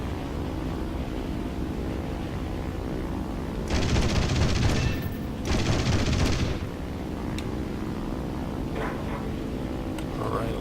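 Bursts of cannon fire from a Yak-9T fighter in War Thunder aerial combat, two loud sustained volleys a couple of seconds each over steady engine drone, then the drone continues alone.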